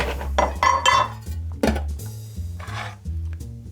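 Ice cubes clink and knock against a glass while a vodka and pineapple cocktail is built, giving several sharp, close clinks and clatters with short pauses between them.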